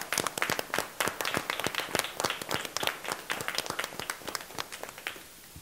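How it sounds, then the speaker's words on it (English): A small group claps steadily for a 2021 Class 3A men's basketball championship team at a school board meeting, with distinct close hand claps in quick succession that thin out near the end. "Let's give them a round of applause."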